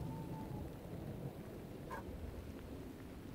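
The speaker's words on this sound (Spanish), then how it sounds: "Y está lloviendo." Rain falling in a Minecraft world, a steady low hiss and patter with a dull rumble of thunder underneath, fairly quiet and continuous with no talking.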